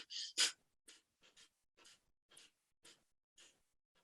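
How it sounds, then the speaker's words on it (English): Forceful bellows breathing through the nose during a sophrology exercise, with the stomach pushed in and out: two strong, close sniffs followed by six sharper, evenly spaced nasal puffs, each brief and separated by silence. "So we're going to push the stomach in and out as we breathe in the nose forcefully."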